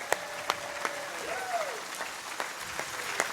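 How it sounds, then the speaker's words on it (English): Scattered clapping from a modest crowd at a business awards event, thin and sparse with distinct individual claps, while a voice speaks faintly underneath. "nice big round of applause for Mr. Dow Constantine."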